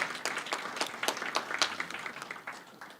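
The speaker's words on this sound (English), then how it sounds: "can we give them a round of applause for the meal we're about to enjoy?" Audience applause fills a banquet hall for a catering crew before a meal, a dense wash of many hands clapping that swells and then tapers off over a few seconds, with no talking.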